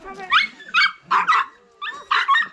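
Two dogs travelling with campers at a snowy, high-altitude spot bark in short, sharp bursts, about five barks in quick uneven clusters, close and loud over a quiet background.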